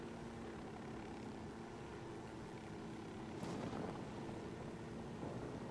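Helicopter flying in Ghost Recon Wildlands: a steady low rotor and engine drone fills the whole stretch at constant level, with a brief sharp tick partway through and no talk.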